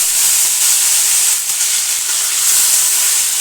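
Chopped tomato hits a hot pan of cumin and sets off a loud, steady sizzle that hisses continuously from start to finish, close and unbroken.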